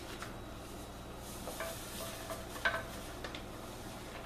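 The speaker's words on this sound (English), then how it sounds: "you're going to add the pie mixture, and you're going to stir it really well to get all the little lumps out" Pie mixture being stirred into milk in a saucepan, soft scraping strokes and a few light clinks of the utensil against the pan under a faint steady hiss.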